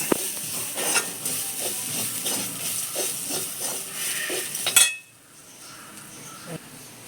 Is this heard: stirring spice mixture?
yes